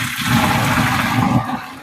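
Cooked fettuccine and its hot cooking water are poured into a strainer, producing a brief, loud rushing gush of water that fills the moment and then tapers off.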